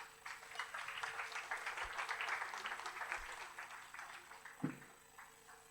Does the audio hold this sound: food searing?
no